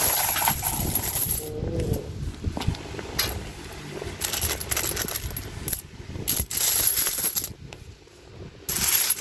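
Coins saved for a savings challenge are poured and sifted by hand, giving a continuous loud metallic jingle and clatter with brief pauses, up close.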